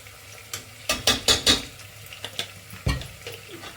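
Ginger garlic paste fries for chicken biryani with a close, crackling sizzle and a quick run of spoon stirs and scrapes against the pan, then a few more later.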